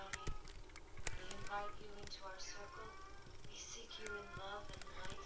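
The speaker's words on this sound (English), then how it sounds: "if you hear a meow in the background, it's my cat." A pet cat meows faintly several times in the background of a room, partly buried under clattering computer keys and a person talking.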